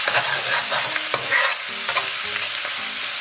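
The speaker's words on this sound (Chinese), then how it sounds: "咱们在锅里边稍微来点油，然后油热以后啊，咱们给锅里边稍微来点辣椒酱" Chili paste, minced pork sauce, scallion and garlic stir-fried in a hot wok with oil, a steady bright sizzle with repeated scraping strokes of the spatula, loud and close, no voices.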